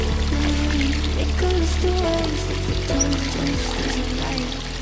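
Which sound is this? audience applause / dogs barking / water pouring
water pouring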